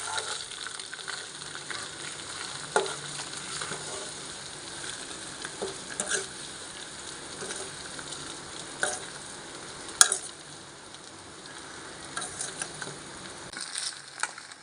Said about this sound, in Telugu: కొద్దిగా కారం, కొద్దిగా పసుపు, కొద్దిగా ఉప్పు ఇలాగా ఫ్రై చేసుకుందాం అన్నీ వేసుకొని